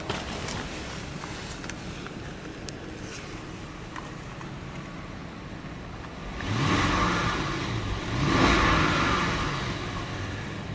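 A 2014 Bentley Mulsanne engine idling smoothly under a broad hiss, then revving up in two rising swells, the second slightly louder, all fairly quiet and refined.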